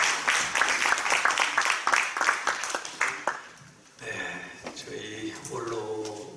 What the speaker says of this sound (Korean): 뜨거운 박수로 환영해 주십시오